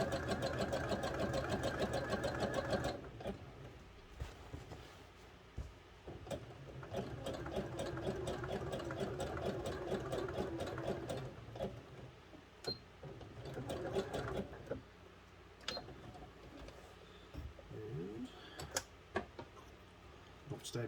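A sewing machine top stitching fabric seams, running in a steady rapid needle rhythm with several stops and restarts, close and clear, with faint handling sounds between runs.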